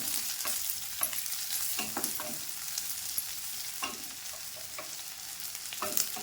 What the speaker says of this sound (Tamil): இப்போது இதில் நான் கட் பண்ணி வச்சுருக்கிற பாவக்காயை போடுறேன். இந்த பாவக்காய் நல்லா வதக்கணும்.